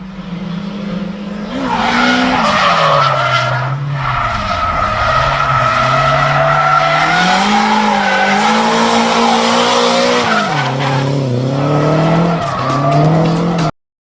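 A drift car skids hard with tyres squealing almost continuously, engine revving loud and close as it holds long slides, the screech rising and falling for about twelve seconds before cutting off abruptly.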